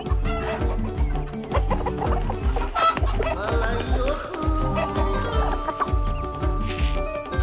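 Hens cluck continuously in a shed in a hot climate, a close, busy chorus of rhythmic clucks with a rooster-like call among them, over a steady pulsing background.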